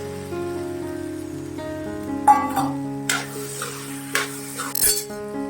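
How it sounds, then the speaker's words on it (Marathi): Soybeans hit a hot pan of spinach sabji and sizzle in bursts as a spoon stirs and scrapes them, close and fairly loud over steady soft background music, with no talk. "आता थोडा गॅस बारीक करायचा मग सोयाबीन घालायचं"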